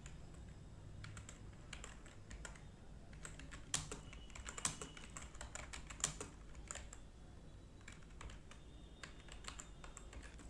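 Rapid, fairly quiet typing on a computer keyboard, with irregular clusters of key clicks and a few louder keystrokes, heard alone with no talking.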